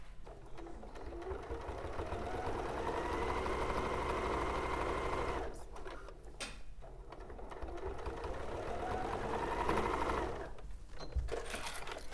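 A sewing machine stitches a cottage garden tote bag in long, steady, close whirring runs, with a short pause and a few handling knocks midway before it resumes.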